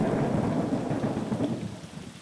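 Steady rain pours down with low thunder rumbling beneath it in a video game, a dense continuous storm wash with no voices.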